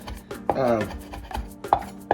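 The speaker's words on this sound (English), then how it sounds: "we're just kind of chopping it up just to release all the oil and all the flavors from the herbs" Rosemary and thyme leaves chopped with a knife on a board, a quick series of close, crisp blade knocks with a short busier burst in the middle.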